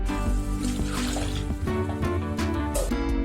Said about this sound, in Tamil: நம்ம வேக வச்ச தண்ணிய மிக்ஸி ஜார்ல கழுவி விட்டுக்கலாம்